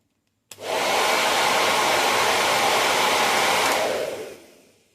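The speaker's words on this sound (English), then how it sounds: "I'll fire up our hairdryer." A hair dryer switches on abruptly and blows with a steady, loud whooshing roar for several seconds, then winds down and fades.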